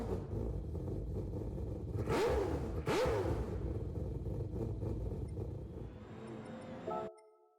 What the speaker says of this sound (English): The engine in this, huh?